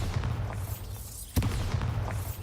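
A Bombarda spell in Hogwarts Legacy explodes as a single sharp, loud blast midway, standing out over continuous low game ambience and rumble.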